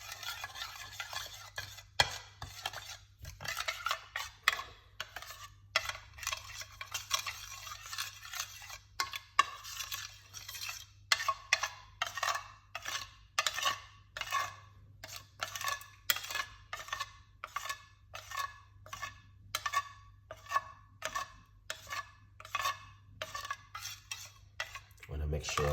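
A spoon stirs a cayenne pepper mixture in a dish or bowl, making steady rapid clinks and scrapes against the sides that run close and clear for the whole stretch, with no talking.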